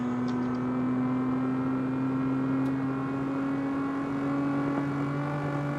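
In the CarX Street video game, a Lamborghini engine drones at a steady, even pitch, loud and continuous throughout without voices.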